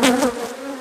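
Honey bees buzz at an opened beehive in the Cache Valley, a brief close drone of several wings with a wavering pitch and no voices.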